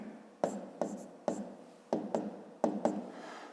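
A pen writes numbers on paper for a 5th-grade maths exercise. Crisp, close strokes and taps come in about six quick, irregular bursts against a hushed background, with no voices.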